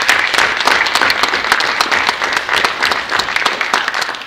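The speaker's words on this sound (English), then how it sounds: "let's give these young men a nice round of applause" A room full of people applauding young wrestlers at a winter sports awards ceremony, loud continuous clapping with no pause, fairly close and sustained from start to finish.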